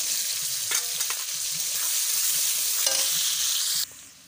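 Sliced onions drop into hot oil for a crab and potato curry, sizzling steadily and loudly while a spatula scrapes and stirs the pan in a few brief strokes, then the sizzle drops off abruptly.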